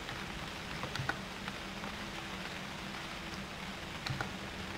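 Steady rain falling in the hunting game UnReal World, an even soft patter throughout with a few faint clicks.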